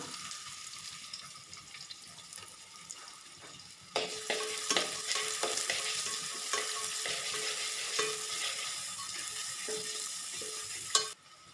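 Onions frying in ghee in a pan for fried rice, a steady broadband sizzle that jumps louder partway through as the onions go in, with scattered stirring clinks and scrapes, no talking.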